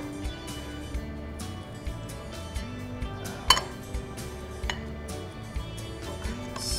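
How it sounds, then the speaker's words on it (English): Soup being ladled into bowls with dishes softly clinking, faint scattered taps and one sharper clink of ceramic and metal over a quiet kitchen background. "Let's ladle in some of our soup"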